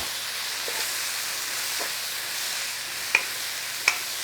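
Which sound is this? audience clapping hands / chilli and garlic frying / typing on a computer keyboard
chilli and garlic frying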